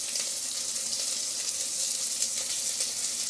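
Brinjal sautéing in a pan with turmeric and salt for hotel-style idli sambar, producing a steady, hissing sizzle that holds evenly throughout without pauses.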